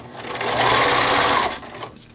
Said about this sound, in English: applying these with a standard sewing machine